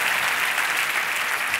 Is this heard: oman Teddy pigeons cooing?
no